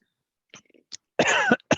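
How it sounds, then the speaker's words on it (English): A few short coughs, one stronger harsh cough near the end, close to the microphone with quiet gaps between. "Get my cough in there."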